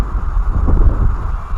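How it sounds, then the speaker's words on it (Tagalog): Strong wind by Mapanuepe Lake in San Marcelino, Zambales, buffets the microphone in uneven low rumbling gusts that rise and fall, with no one speaking. "Ang lakas ng hangin."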